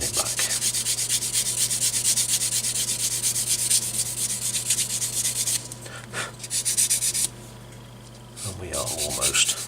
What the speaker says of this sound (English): sanding it back.